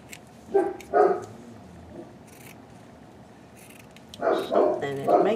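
A dog barks in short bursts from another room while fabric is being cut with scissors for a baby dress; several loud, close bark clusters come early and again at the end, with quiet gaps between.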